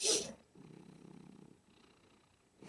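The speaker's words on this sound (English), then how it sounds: "Oh, I can hear the purring. I hear her purring." A cat purrs softly and steadily at close range for a couple of seconds, a low, even rumble that follows a brief louder rustle at the start.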